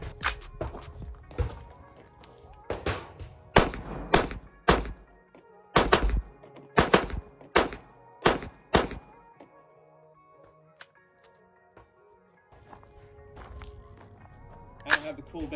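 A PSA Sabre 11.5 rifle fitted with a SilencerCo Velos LBP suppressor fires a series of sharp, muffled cracks, some in quick bursts and others spaced apart, each with a short ringing tail, outdoors with people talking between strings of shots.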